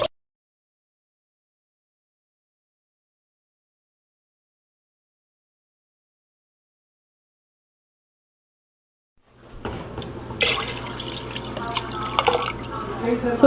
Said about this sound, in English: Now you just add some water to it.